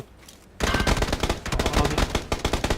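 Rapid bursts of video game gunfire, loud and close, breaking in after a quiet moment and rattling on in repeated volleys with short gaps between them.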